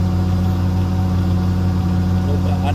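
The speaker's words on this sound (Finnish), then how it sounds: "Herää sieltä auto." A car engine idling steadily with a deep, even rumble, close and continuous.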